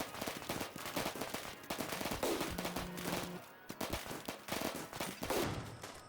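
Rapid automatic gunfire and scattered shots from a RimWorld raid battle crackle in dense bursts throughout, with brief pauses between volleys.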